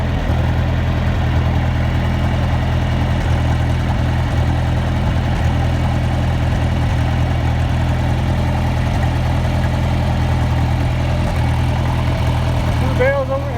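A tractor engine idles steadily and loudly throughout while hay bales are fed to cattle on a very dry pasture, a constant low rumble with a few faint chirps near the end.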